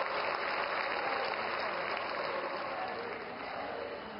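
Sustained applause from a large crowd welcoming India's Prime Minister at a political event, a dense steady wash of clapping that holds loud throughout and eases only slightly at the end.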